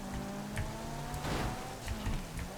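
Steady rainfall in the video game GTA V, a constant wash of drops hissing across surfaces at moderate level with faint rumbles beneath, continuing without pause.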